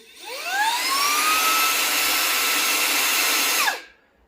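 A Rowenta X-Touch handheld vacuum whirs up to a steady, fairly loud whine, holds for a few seconds, then switches off and winds down.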